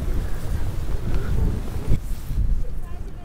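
Gusty wind at a stormy tent campsite, buffeting the microphone in heavy low rumbling bursts with a louder gust near the middle, under some speech.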